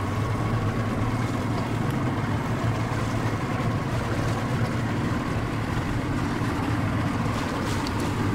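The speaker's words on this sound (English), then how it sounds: "You can see how the boat breaks up the ice into real small pieces." A boat breaks frozen lake ice into small pieces, producing a continuous, even engine drone mixed with sloshing water and faint crunching, steady and moderately loud for the whole stretch.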